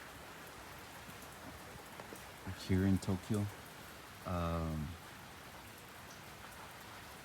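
Steady heavy rain falls in Tokyo ahead of a typhoon, a dense even hiss throughout, with someone talking briefly over it.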